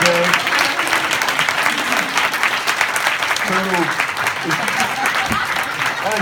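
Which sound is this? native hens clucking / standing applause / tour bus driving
standing applause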